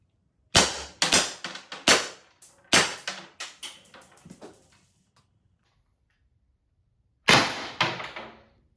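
P2P Secure 68 caliber pepper launcher firing, a rapid string of sharp pops in an uneven burst, then silence and a shorter burst of several more shots, loud and close.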